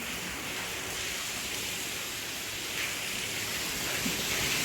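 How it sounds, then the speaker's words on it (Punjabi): Steady rain hisses evenly and continuously, a soft wash of noise with no voices. "ਡੇਢ ਘੰਟੇ ਮੰਗੂ ਹੋ ਗਿਆ ਮੀਂਹ ਪੈਂਦੇ ਨੂੰ"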